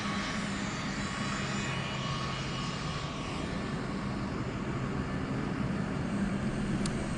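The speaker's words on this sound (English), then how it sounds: "We can see the president's plane, Air Force One, taxiing closer to us right now" Air Force One, the presidential jet, taxis on an airport apron with a steady, low engine rumble and broadband whine heard from a distance, quiet and unbroken with no voices.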